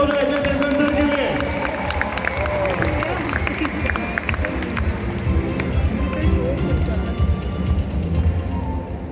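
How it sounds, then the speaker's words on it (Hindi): An audience at the opening ceremony of the 53rd International Film Festival of India in Goa breaks into loud clapping and cheering, a dense crowd roar that fills the hall, with voices mixed in. "जोरदार तालियां हो जाए एंटरटेनमेंट सर के लिए"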